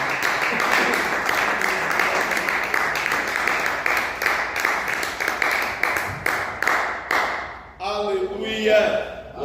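A church congregation claps hands in a steady rhythmic beat, dense and lively, fading near the end as a voice begins speaking.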